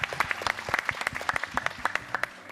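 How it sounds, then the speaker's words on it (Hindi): A studio audience at a Ramzan television show applauds steadily, a dense patter of many hands clapping at close range with a few sharper individual claps standing out. "ज़बरदस्त तालियां होनी चाहिए हम सब की तरफ से।"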